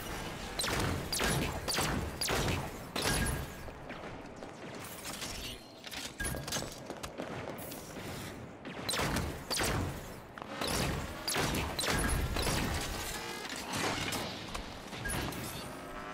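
Enemy turret gunfire in Halo 5: Guardians, a steady stream of sharp repeated shots and impacts that keeps going the whole time, moderately loud amid clanking combat noise.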